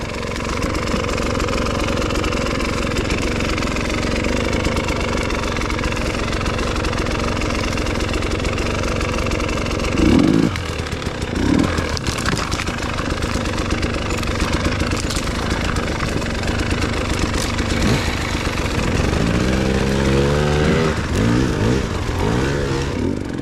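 A Starcross 6 dirt bike engine labours steadily as the bike climbs a steep trail hill, a loud, continuous mid-pitched drone with a brief surge partway through and rising revs near the end.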